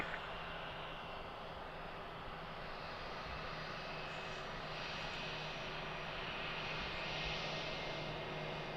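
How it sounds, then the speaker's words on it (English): An Airbus A321 jet that has just landed, its engines giving a steady, even broadband roar from a distance with a faint whine throughout and no break in the sound. "This is the Charlie, A321 that just landed from Dallas."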